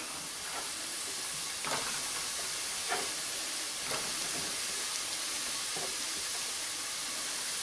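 Linguiça pork sausage sizzling in a pan with sweated onions, a steady broadband frying hiss throughout with a few brief louder crackles and stirring bursts, close and continuous.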